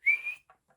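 A single clear whistle for a horse in the video game Elden Ring, a bright rising note under half a second long, followed by two faint short blips, heard alone.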